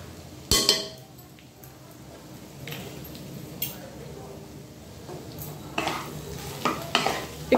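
Chicken keema sautéed with butter in a pan, a soft steady sizzle under repeated spatula scrapes and sharp metallic clinks against the pan.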